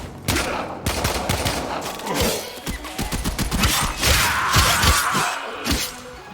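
Rapid video game gunfire crackles almost without pause, dense overlapping shots and sharp impacts with glassy shattering mixed in, loud and close throughout.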